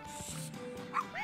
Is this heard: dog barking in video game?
yes